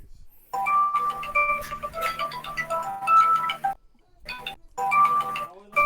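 A mobile phone rings in bursts of a repeating melodic tone, loud and close, pausing briefly in the middle before sounding again, with no voices over it.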